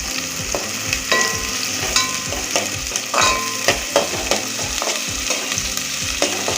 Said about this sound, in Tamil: இப்போ வெங்காயத்தை சேர்த்து நல்லா வதங்கி வரணும்.